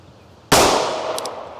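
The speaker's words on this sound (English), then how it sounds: "So let's shoot a couple more." A single sharp revolver gunshot, from a .357 or .22 Magnum, cracks loudly at close range and leaves a decaying echo.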